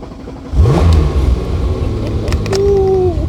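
A 1990s Porsche 911 Turbo S revs up nearby, its engine note climbing sharply then settling into a sustained mid-pitched drone, with a rising whine toward the end and no talking.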